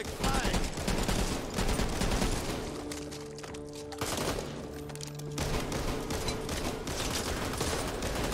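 Gunfire in the video game Back 4 Blood, dense rapid bursts of shots that ease off briefly with a sustained tone in the middle, then return in steady volleys.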